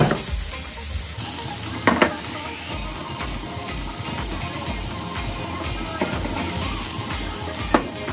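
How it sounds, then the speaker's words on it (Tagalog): Vegetables sauté in hot coconut oil for a Filipino beef mechado, giving a steady close sizzle and crackle throughout, with a few sharp stir clatters from the pan standing out above the frying. "Pero, gamit ko coconut oil. Para isasate ko muna yung gulay. Parang piniprito ko muna."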